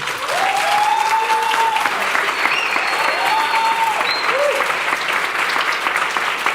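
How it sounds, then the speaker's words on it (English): Sustained, dense applause from a large conference audience fills the whole stretch at a steady loud level, with faint voices mixed in. "Please join me in a colossal round of applause for Anderson."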